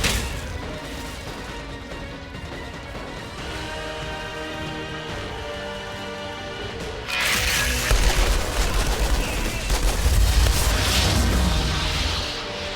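Rapid gunfire from the video game Outriders breaks out after a stretch of sustained orchestral music, a loud dense burst of shots and impacts that carries on to the end.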